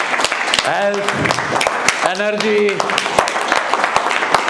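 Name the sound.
audience clapping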